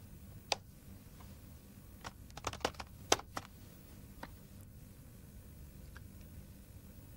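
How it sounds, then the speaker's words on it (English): Computer keyboard typing: a quiet, irregular run of clicking keystrokes with a clustered burst of taps in the middle and scattered single clicks, close by, no talking. "Keyboard."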